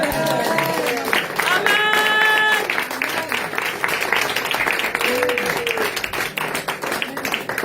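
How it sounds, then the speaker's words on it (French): Church congregation applauding during a French-language worship service, a dense wash of clapping and crowd noise with sustained tones and organ-like chords mixed in throughout. "Acclamons pour le Saint-Esprit."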